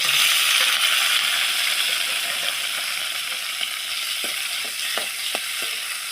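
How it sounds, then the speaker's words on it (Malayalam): Tomato and green chilli fry in hot coconut oil with a steady, close sizzle. A few sharp spoon scrapes against the pan come through near the end. "വെളിച്ചെണ്ണ ചൂടായിട്ടുണ്ടേ അതിലേക്ക് നമ്മൾ തക്കാളി പച്ചമുളക്"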